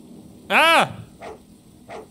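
A dog in the video game She Dreams Elsewhere gives one loud, clear bark, followed by two fainter, shorter barks or yips, heard alone and close.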